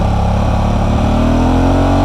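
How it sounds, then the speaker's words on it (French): A Honda Hornet 750 motorcycle engine revving hard and close, a loud continuous roar whose pitch climbs steadily through the rev range. "Le bruit est exceptionnel. Ça fait moto de course."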